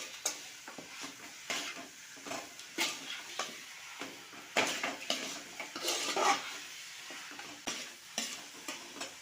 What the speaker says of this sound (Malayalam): എല്ലാം കൂടി നന്നായി ഇളക്കി യോജിപ്പിക്കണം.